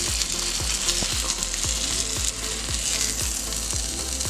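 Bread frying in a pan for lamb spaghetti, a close, steady sizzle with soft rhythmic scraping or stirring taps about every third of a second, no voices.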